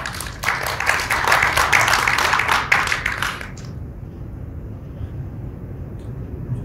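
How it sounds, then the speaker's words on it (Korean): Audience applause at a hotel conference on logistics and transport policy, sustained for about three seconds and then cutting off to quiet room tone. "큰 박수 부탁드리겠습니다."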